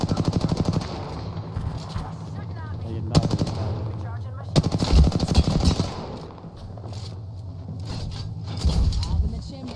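Gunfire in Apex Legends, with rapid automatic bursts and sharp single shots that come in clusters and are loud and close, mixed with game effects and a voice talking over parts of it.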